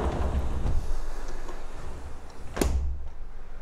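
A double-glazed window slides shut in a seaside house with a sea view, a single sharp close ending in a clunk, with steady ambient noise that drops slightly afterward.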